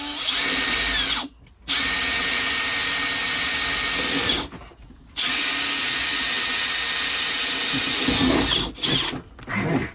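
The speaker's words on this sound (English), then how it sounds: "I'm going to drill here" A power drill with a 1/2-inch bit bores a hole through a camper floor, running loud and steady in three long bursts with brief pauses between them and no talk.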